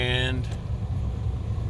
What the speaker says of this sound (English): we're going to see how this car starts